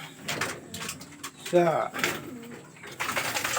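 Racing pigeons coo during a training toss ahead of a summer race: soft throaty coos rise amid scattered bird noises and thumps, with a person talking nearby.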